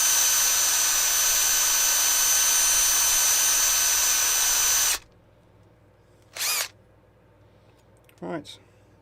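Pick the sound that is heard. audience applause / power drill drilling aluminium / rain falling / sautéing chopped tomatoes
power drill drilling aluminium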